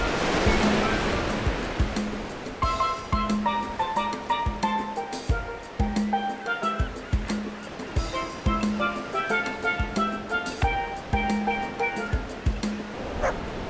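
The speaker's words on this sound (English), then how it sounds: "Let's say hi to the Pacific Ocean." Pacific Ocean waves wash onto a Los Angeles beach in a steady rolling surge, with a dog barking repeatedly and close by over the surf.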